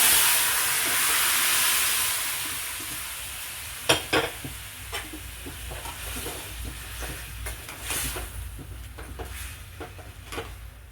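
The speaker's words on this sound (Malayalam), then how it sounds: "ഒന്ന് തിളച്ചോട്ടെ കേട്ടോ കറി" A pan of chicken curry bubbling and sizzling on the stove, with a steady hiss and scattered sharp pops and clinks, no voices.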